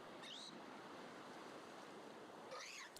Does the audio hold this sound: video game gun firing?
no